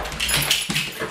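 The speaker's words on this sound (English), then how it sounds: "Already, the dogs." A dog whimpering, a couple of short high whines up close, alone without talk.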